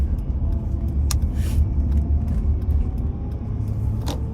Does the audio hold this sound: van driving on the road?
yes